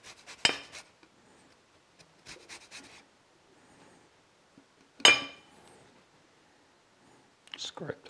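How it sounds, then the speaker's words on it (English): Lemon and lime are zested onto a small plate with quiet, scattered rasping and clinking scrapes, separated by near-silent pauses, with some whispery sounds between them. "Now let's zest the lemon and the lime."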